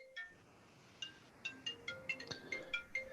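A phone ringtone for an incoming call chimes in a repeating electronic pattern of short, evenly spaced tones, quiet and alone with no talking.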